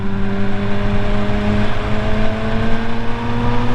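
Car engine with the exhaust open, droning loud and close at steady revs as it pulls away, harmonics rising slowly with no talk over it.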